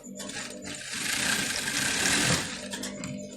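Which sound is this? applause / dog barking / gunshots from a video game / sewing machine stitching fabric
sewing machine stitching fabric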